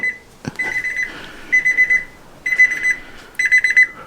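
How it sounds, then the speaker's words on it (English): A ThermoWorks Signals thermometer sounds its high-temperature alarm at a smoker grill, sharp electronic beeps in four quick bursts of rapid pulses separated by short pauses, near and clear, with a brief knock near the start. "got it beeping here"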